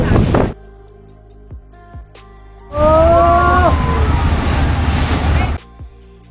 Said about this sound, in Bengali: বিশাল জোরে জোরে হাওয়া হচ্ছে,